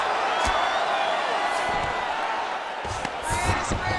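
Arena crowd in the EA Sports UFC 5 video game cheering and roaring in a steady wash as fighters get back to their feet, with scattered thuds and whoops under a commentator's talk.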